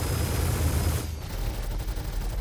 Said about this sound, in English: Let's fire a few shots.